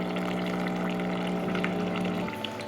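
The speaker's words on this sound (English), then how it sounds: "This allows the vinegar to move throughout the pumping mechanism in order to descale properly." A Flavia Creation C200 coffee machine pumps vinegar through its mechanism while descaling, a steady humming drone with watery gurgles that stops abruptly near the end.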